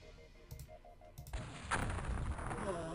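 Weapon fire in the X-COM Files strategy game: a few sharp shots in the first second and a half, then a louder booming blast with a rumbling tail that lingers to the end, under faint game sounds.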